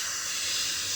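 A steady breathy hiss, like a voice imitating a frightened cat, held for about a second with no pauses.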